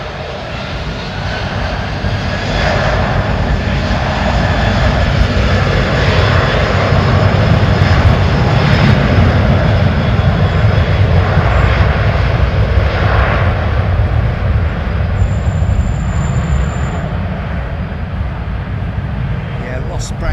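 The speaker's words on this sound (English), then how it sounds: "Listen to this lovely 330 CF6 engines" Airbus A330 jet with CF6 engines spools up for takeoff, a loud, steady broadband roar that swells and holds, with people talking over it.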